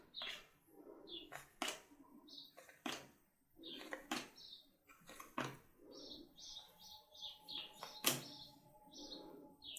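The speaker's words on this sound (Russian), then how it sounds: "Ой, как птички поют." Birds singing and chirping nearby, with short bright tweets and calls repeating irregularly, mixed with scattered clicks and taps in a quiet room.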